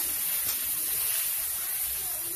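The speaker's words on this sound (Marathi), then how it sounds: "1 चमच मोहरी घेतलेली आहे, 1 चमच याच्यामध्ये जिरा टाकलेला आहे आणि लसणाची पेस्ट टाकते आणि फिरून घेऊया।" Garlic paste hitting hot oil with mustard seeds and cumin, a steady bright sizzle and hiss that runs unbroken and fairly loud, with no voice over it.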